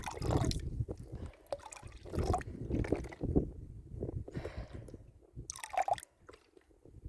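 Biohumate fertilizer solution poured into ten litres of water, a steady liquid gurgle and splash with squishy, sloshing bursts that rise and fall, loudest early and dropping away near the end.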